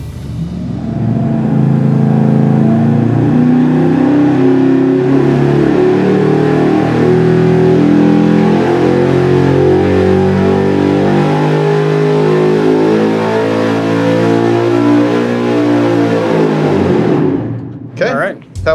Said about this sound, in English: So right now we're gonna run the thing supercharged with the short runners and the intake manifold.